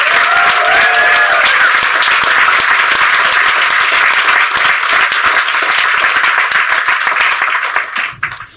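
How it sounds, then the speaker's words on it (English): A live audience at an Edinburgh Fringe event bursts into sustained, dense applause and clapping welcoming a speaker onto the stage, loud and continuous before tapering off at the end. "Make some noise for James Docherty."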